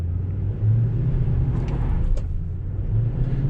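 A 2019 Toyota Sequoia TRD Sport, a 6,000-pound SUV in 2-wheel drive, power-braked and launched from 0 to 60, giving a steady deep engine and road rumble with a swell of revving as it pulls away.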